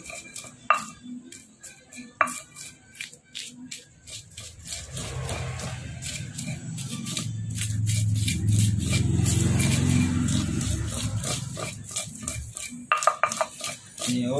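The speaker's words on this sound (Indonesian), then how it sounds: "Diulek sampai halus." Sambal ground in a stone mortar and pestle (ulek) for Indonesian ayam penyet: sharp clinking taps of stone, then a stretch of steady low rubbing grind, then more rapid clicks, close and clear.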